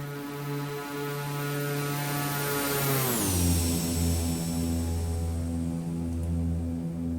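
Steady droning aircraft engine in the X-Plane flight simulator, a continuous buzzing hum with rich harmonics that abruptly drops in pitch partway through, then holds a lower, loud, even tone alone without speech.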